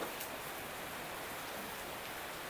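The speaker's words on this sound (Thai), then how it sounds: "ฝนตกเฮ็ดงานไม่ได้ได้บ่ออกงานบ่ได้อ่ะ" Steady rain falling during a downpour, a dense, even hiss of drops with no pauses, moderately loud and close, with no voices.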